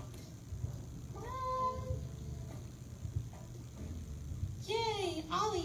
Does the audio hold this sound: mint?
no